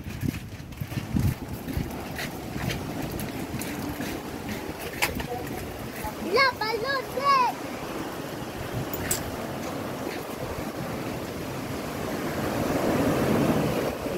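Broad ocean surf wash rolls on steadily under intermittent talk, with a few bird chirps midway and a swelling surge of water near the end, after Typhoon Dante.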